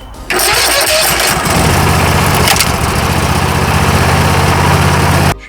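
A Ford SVT Cobra, lowered on its suspension, cranks and fires up after a jump start, then settles into a loud, steady, rumbling idle close by with no talking.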